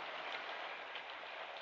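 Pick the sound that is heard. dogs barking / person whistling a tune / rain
rain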